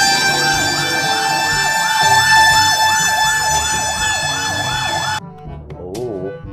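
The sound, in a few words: fire engine siren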